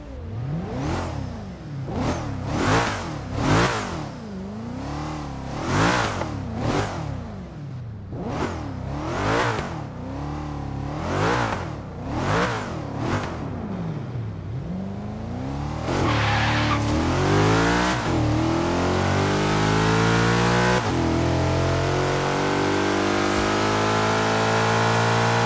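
Porsche Panamera in Forza Horizon 3 revving and accelerating through repeated gear changes, a loud, close engine whose pitch climbs and drops in rhythmic sweeps before settling into a steady high-speed roar.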